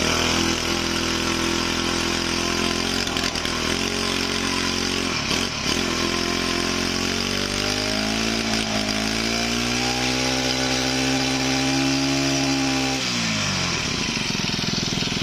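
A small Honda four-stroke brush cutter engine runs loud and steady, then revs up into a rising whine, holds high for several seconds, and drops back to idle.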